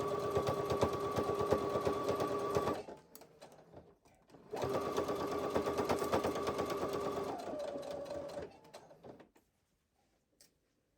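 A domestic sewing machine runs in two sustained, close bursts as it stitches a knit T-shirt neckband binding, with a short pause between them and a slowing whir at the end.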